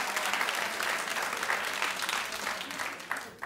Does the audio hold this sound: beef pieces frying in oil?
no